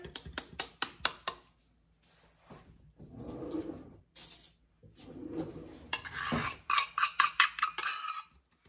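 Butter and brown sugar are stirred together in a bowl, producing intermittent scraping and clicking of a utensil against the dish, close and fairly quiet, with short pauses between strokes.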